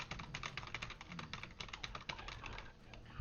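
Computer keyboard keys pressed in quick, irregular bursts during play of a Unity 2D action strategy side-scroller, a close, steady clatter of clicks with no talking.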